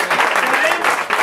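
Audience applause at a live comedy show, a dense broadband patter of many hands, loud and close, with a voice speaking over it.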